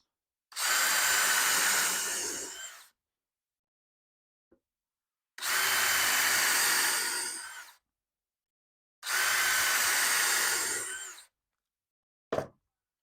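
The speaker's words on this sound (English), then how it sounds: "drill a few holes for the screws" A power drill whirs through wood in three bursts of about two seconds each, drilling screw holes for outdoor bar stools, separated by brief pauses, ending with a short click.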